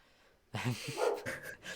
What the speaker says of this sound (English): I don't know if you can hear my dog barking in the background.